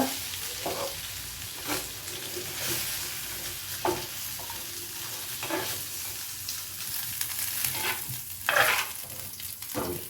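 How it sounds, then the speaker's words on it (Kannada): Dry fish frying in hot oil in a pan, a steady soft sizzle with occasional stirring scrapes and clinks, fairly quiet and close, with no talking. "ಈ ಥರ ಫ್ರೈ ಆಯ್ತು"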